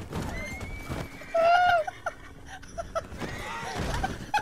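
A horse whinnies shrilly after being shot in a cowboy shootout, with hooves clip-clopping and scattered voices around it, the neigh rising loudly midway among other faint cries.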